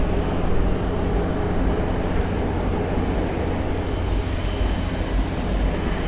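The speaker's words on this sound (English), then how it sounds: "Big generator over there. Hopefully it's not making too much noise on the video." The generator aboard a 2014 Zeelander Z44 yacht drones steadily in the background as a low, constant mechanical hum with no change in level.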